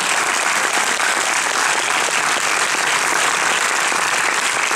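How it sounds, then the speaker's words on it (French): A theater audience at a film premiere for Patients breaks into dense, steady applause, loud and sustained throughout without any pause or talk. "vous pouvez les applaudir s'il vous plaît"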